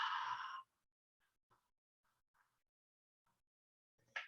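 A single breathy exhale during a yoga breathing exercise, a soft, airy rush lasting about half a second, then near silence with faint small movements, and a brief breath returning at the end.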